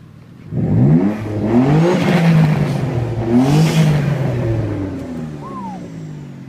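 A twin-turbo Mitsubishi GTO engine revs hard twice, rising and falling in pitch close by, then settles to a lower idle-like drone with a brief whistle near the end.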